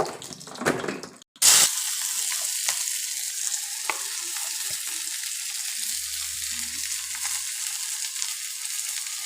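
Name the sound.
mustard seeds spluttering in hot oil on stove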